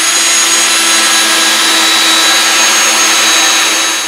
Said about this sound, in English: So we're going to go ahead and pre-drill these.